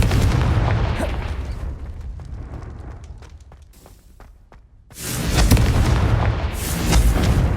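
The fire spell Confringo explodes in Hogwarts Legacy with a loud booming blast and rumbling crackle, then a fading tail that settles before a second heavy explosive roar erupts.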